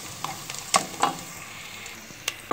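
Onion and green pepper fry in a pot for Chinese fried rice. A soft sizzle runs under sharp metallic clinks and scrapes of stirring, which come in irregular bursts at close range with no talk.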